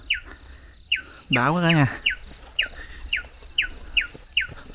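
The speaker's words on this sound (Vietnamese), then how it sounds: "Ở một nơi buổi sáng có tiếng chim kêu." Early-morning birds in a hilly highland area give a series of short, sharp repeated chirps at regular intervals, close and clear, while someone briefly speaks over them midway.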